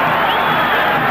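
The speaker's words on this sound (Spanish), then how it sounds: "Gente aplaude" A dense stadium crowd fills a 1993 friendly between Newell's and Emelec with steady, loud roar and applause, no break across the short stretch.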